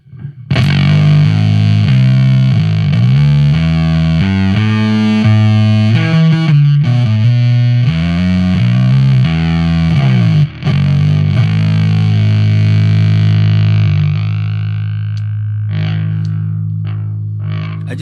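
A breadboarded distortion circuit with diode compression, presumably fed by guitar, gives a loud, continuous fuzzy tone with sustained harmonic chords and an added gritty high end. It fades slightly toward the end and plays alone, with no talk over it.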